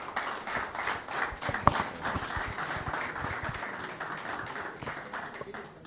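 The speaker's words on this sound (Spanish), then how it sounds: "Muchas gracias, Horacio, lo recibimos con un aplauso." Moderate audience applause welcoming a speaker at a railway signalling seminar in Argentina, a steady patter of many hands clapping throughout, fairly distant and tapering toward the end.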